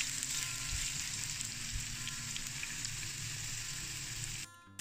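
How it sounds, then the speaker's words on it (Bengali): Sliced onion frying in oil in a pan, turning light brown, makes a steady, dense sizzle that runs close and even for several seconds before cutting out briefly near the end. "পেঁয়াজটা আমি হালকা বাদামি করে ভেজে নেব"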